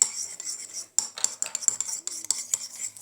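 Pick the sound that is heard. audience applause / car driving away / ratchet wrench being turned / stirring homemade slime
stirring homemade slime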